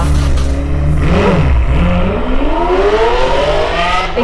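A car engine revs loudly and continuously, pitch sweeping down and then climbing again as it accelerates, with no talking over it.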